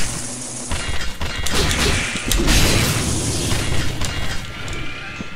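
A rapid attack string with a just-attack finisher from the action game Assault Spy, heavy booming impacts and crashing hits packed into a few seconds of loud combat effects.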